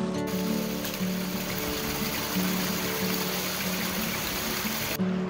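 A waterfall and creek pour steadily with a continuous broadband rush and gurgle, close and unbroken, with no voices over it.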